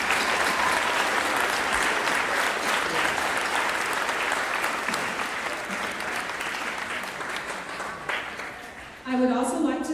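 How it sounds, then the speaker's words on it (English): Sustained applause from a sizable crowd at a high school graduation, loud and even for several seconds, then tapering off as a voice begins to speak. "please join me in giving them a big round of applause"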